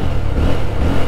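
Yezdi Roadster motorcycle exhaust giving a steady, deep bassy thump at close range, heard alone for about a second.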